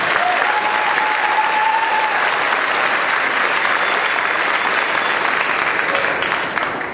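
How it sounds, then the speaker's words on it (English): A concert audience at a spring symphonic band and wind ensemble performance claps for a band honored with a superior rating, a full, even wash of applause that holds steady throughout and fades slightly at the very end. "Let's give them a round of applause for that."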